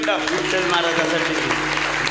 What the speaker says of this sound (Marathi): टाळी वाजवा एकदा विठ्ठल महाराजासाठी